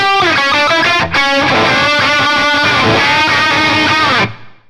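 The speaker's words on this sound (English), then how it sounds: "I'm obviously using a Gibson Les Paul here" Gibson Les Paul electric guitar through a heavily distorted amp tone, loud dense strummed chords and riffs played continuously before cutting off sharply with a brief fading tail.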